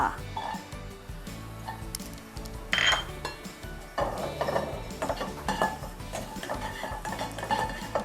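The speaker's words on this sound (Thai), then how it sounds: "เดี๋ยวเราเจียวให้หอมแดงหอมก่อนนะคะ" Shallots frying in a pan while being stirred, with repeated scraping and clinking of a utensil against the metal pan and a continuous sizzle underneath, busy and close throughout.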